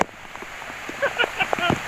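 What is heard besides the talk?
rain falling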